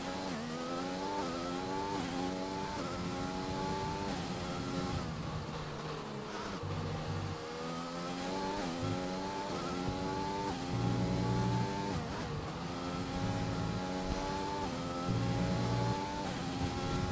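Onboard engine of an F1 race car in an F1 video game at the Spanish circuit, a high, steady wail rising through the gears with brief drops on downshifts and throttle lifts, loud and continuous.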